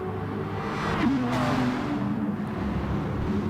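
Race cars circling Suzuka in Gran Turismo Sport, on soft and medium tyres in a GT challenge race: steady, loud engine drone with a passing whoosh near the one-second mark and continuous mechanical roar.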